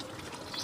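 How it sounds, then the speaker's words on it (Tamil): A small splash of water pours into a pan of Dhaba-style chicken varuval being cooked with coriander powder and chicken masala, a brief, close gushing trickle with no talk. "கொஞ்சமாக தண்ணி ஊற்றி"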